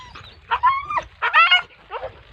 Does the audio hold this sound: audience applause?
no